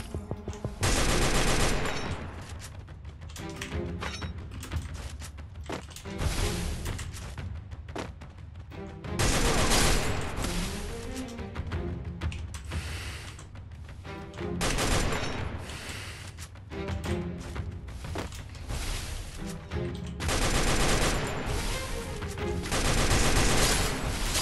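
Rapid bursts of automatic gunfire and single shots from a Free Fire battle-royale match, loud and close, arriving in dense volleys separated by short lulls, with no talking.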